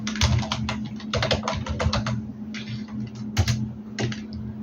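Crisp keystrokes on a computer keyboard typing a shortcut, irregular clusters of close, fairly loud clicks over a steady low hum.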